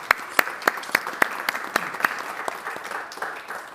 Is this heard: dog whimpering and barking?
no